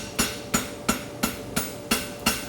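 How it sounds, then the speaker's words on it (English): A farrier's hammer strikes the heel of a steel horseshoe while forging a lateral extension bar shoe, seven sharp metallic blows at a steady rhythm about a third of a second apart, loud and close with no speech. "right through the heel with the round of your hammer where it curves in."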